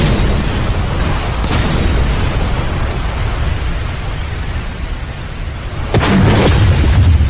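A fire-style flame attack explosion in an anime fight sounds as a dense, roaring blast that rumbles steadily, then swells into a louder burst near the end, with no talking over it.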